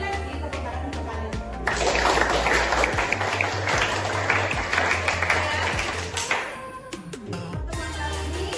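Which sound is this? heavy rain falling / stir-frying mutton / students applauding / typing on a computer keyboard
students applauding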